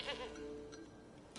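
A goat bleats in The Witcher 3: Wild Hunt, giving a wavering, nasal cry at the start and a shorter call near the end, heard over a soft, steady game ambience.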